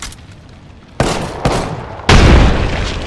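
A frag grenade goes off in the video game Apex Legends as a sequence of three loud, close blasts about half a second apart, the last one the heaviest and longest, with a rumbling tail.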